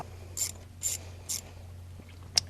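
Ratchet wrench turning a 10 millimeter bolt on the high-pressure fuel pump of a 5.3L Silverado engine, three short faint clicking bursts at an even pace followed by a single sharp click, quiet over a low hum.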